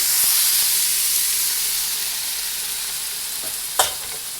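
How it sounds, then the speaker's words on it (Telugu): Mutton sizzles in a pan with only a little oil for a curry, a steady close hiss of frying that continues alone, with a brief sharper crackle near the end. "మటన్ అయితే ఇందులో వేసేస్తున్నాను"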